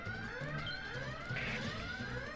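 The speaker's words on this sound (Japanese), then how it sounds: "火災報知機が、火災警報が作動して扉が開かないの。" A train's fire alarm rings in the PlayStation game Chase the Express: a loud, continuous electronic tone with rising sweeps, steady throughout and close.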